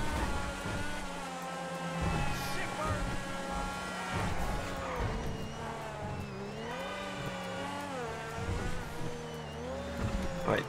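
A Lampadati Tigon sports car driven fast in GTA 5 Online, its engine revving continuously with rising and falling pitch as it shifts, loud and close, over game background sound.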